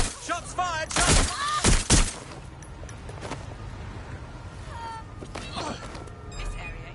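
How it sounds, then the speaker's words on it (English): Gunshots in the video game Watch Dogs Legion, with a loud cluster of sharp shots in the first two seconds, then quieter scattered pops and game ambience. "Shots fired!"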